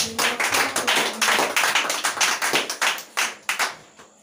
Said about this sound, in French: We will clap